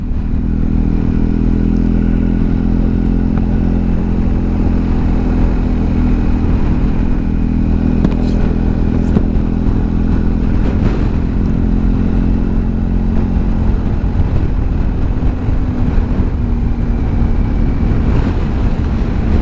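Riding on the Great Alpine Road in cold, foggy high country, a motorcycle's engine drones steadily and loudly from close by for the whole stretch. A rattly clatter of wind and road runs with it, and no one talks.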